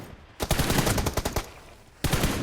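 Automatic gunfire from the mobile battle game PUBG Mobile, a loud rapid burst of shots in quick succession after a brief pause, then another burst starting near the end.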